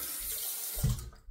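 Disposable razor rinsed under a running bathroom tap, a short steady splash of water with a brief louder gush near the end, heard alone.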